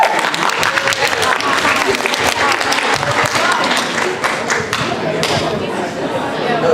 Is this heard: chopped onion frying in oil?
no